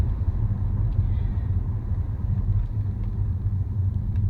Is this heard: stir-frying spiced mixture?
no